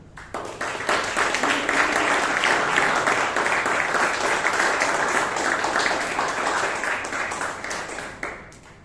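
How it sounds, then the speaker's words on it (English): Audience applause fills a Toastmasters club meeting in Bangalore, a dense, steady round of clapping from a crowded room that swells quickly, holds for several seconds, then tapers off near the end. "A huge round of applause for Vishal."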